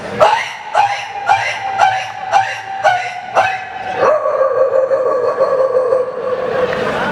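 A voice imitates a dog yelping as it flees, giving a rapid series of sharp yelps followed by a drawn-out whining howl, loud and close.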